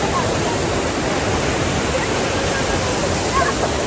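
Taytay Falls in Majayjay, Laguna, a loud steady roar of rushing waterfall water, close and constant throughout with no breaks.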